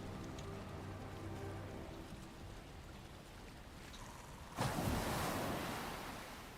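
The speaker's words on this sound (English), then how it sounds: "Gotta love waking up to the sound of waves washing ashore." Ocean waves washing ashore in the video game Valheim, a soft continuous surf wash that swells into a louder crashing wave near the end, with no talking.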